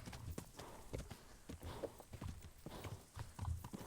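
In Kingdom Come: Deliverance, quiet, steady clip-clop of a tired horse's hooves at a walking pace, with faint background noise and occasional soft voice-like sounds.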